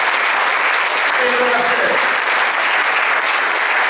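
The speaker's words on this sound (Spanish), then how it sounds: "denle el aplauso a Jesús" A church congregation applauds during a Sunday sermon, giving a steady, loud wash of clapping throughout while a preacher speaks briefly over it.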